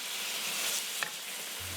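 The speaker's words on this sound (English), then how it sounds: "cook, stirring until the moisture from the tomatoes fully evaporates and the mixture starts frying" A tomato mixture for minestrone fries in a soup pot with a steady, dense sizzle and crackle that holds even throughout, broken by a brief clink of a spoon near the end.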